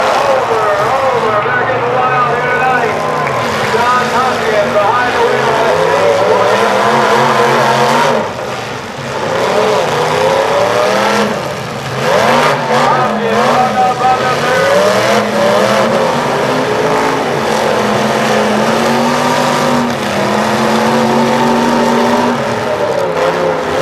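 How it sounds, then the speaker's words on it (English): Cars revving and roaring around a demolition derby arena in Muskingum County, Ohio, loud sustained engine drone rising and falling throughout, with an announcer talking over a public address system. "John Muskingum behind the wheel of that automobile. Going for a ride now, Dave Barlow."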